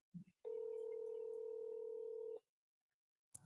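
A steady electronic telephone tone sounds for about two seconds, clean and even, preceded and followed by brief faint clicks.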